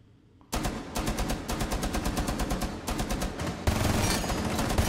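Rapid automatic gunfire in a multiplayer video game, dense continuous bursts with brief pauses between them, loud and close.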